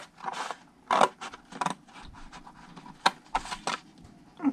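Scissors cutting cardstock along a score line for a one-sheet gift box, heard as several close, crisp snips in short bursts separated by brief pauses.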